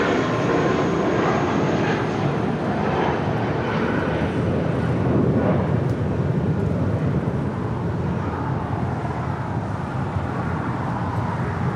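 Airliner taking off from runway 25 right at LAX, bound for Madrid, a loud, steady jet engine roar sustained throughout with broadband rushing noise, heard alone.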